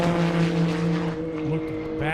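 A 2,000-horsepower Porsche drag car accelerating down an airport airstrip, giving a sustained loud engine drone with steady tones, heard under a commentator's voice.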